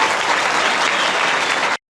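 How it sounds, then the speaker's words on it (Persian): Studio audience applause on a televised quiz show, a dense, steady burst of clapping that runs loud for under two seconds and then cuts off abruptly. "بسیار عالی، تشویقشان کنید."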